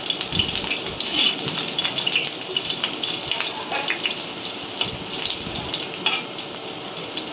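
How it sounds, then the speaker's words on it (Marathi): Bitter gourd (karela) fries in oil over a low flame, giving a continuous bright sizzle with scattered crackles and pops at close range, with no voices. "कमी गॅसवरतीच तळायचं याला एकदम मस्त वाटत"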